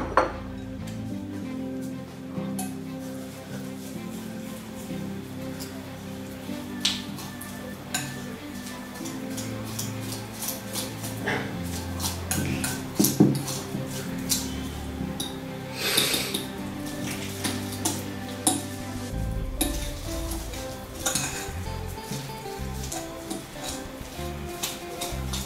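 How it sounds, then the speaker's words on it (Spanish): Sugar and egg yolk being mixed by hand in a bowl for gingerbread cookie dough, with steady scraping and clinking of a utensil against the dish throughout, close and fairly quiet, no talking. "Mezclamos los 3 ingredientes."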